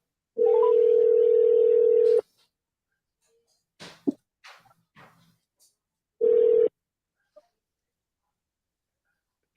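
A telephone dial tone sounds during a call-back to a radio caller, a steady loud hum for about two seconds, then brief clicks and faint noises, then the same tone returns for a shorter burst.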